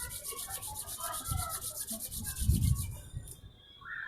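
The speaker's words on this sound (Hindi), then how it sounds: "और तेजी से रब करें।" Palms rubbed briskly together during a yoga session, a steady close dry swishing friction that carries on for about three seconds before fading out.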